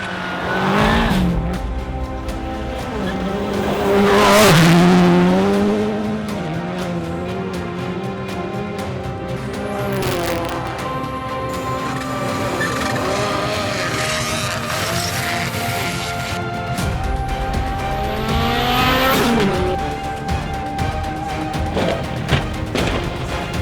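Race cars climbing the Mount Washington hill climb, the oldest auto race in the United States, engines revving and shifting through gears, rising and falling as they pass, with occasional tire squeal, loud and close.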